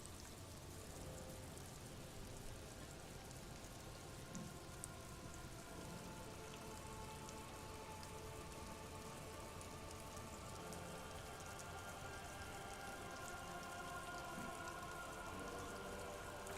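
Steady rain falls on a surface as a constant dense hiss with faint scattered drops, unbroken throughout and free of any voices.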